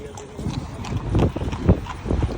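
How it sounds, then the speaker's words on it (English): A horse's hooves clip-clop on a beach, uneven steady hoofbeats at moderate distance mixed with wind, crowd noise and people talking. "look at that horse!"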